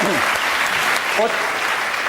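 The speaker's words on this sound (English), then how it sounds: "Give him a round of applause." Studio audience applause on a comedy panel show fills the whole stretch with steady, dense clapping, and a brief voice cuts in near the start.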